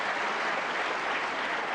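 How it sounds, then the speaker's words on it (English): A snooker crowd breaks into steady applause after a fluked shot in a professional match, a dense, even wash of clapping that fills the moment with no voices over it. "a tiny fluke there from Jimmy, the crowd applauding, but quite obviously a fluke."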